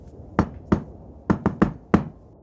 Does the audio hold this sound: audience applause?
no